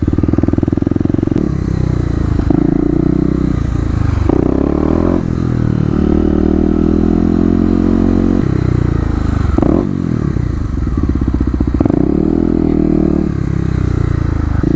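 A Kawasaki KLX250 motorcycle rides through city streets in cold weather, its engine loud and close with repeated revs and gear changes, plus some clatter and wind noise, no talking.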